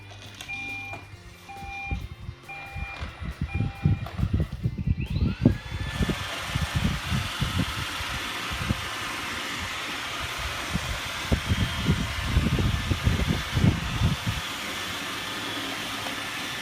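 An iRobot Roomba 880 robot vacuum cleaner starts up with a rising hum, then runs steadily with a whirring motor and busy brush clatter, close and fairly loud throughout.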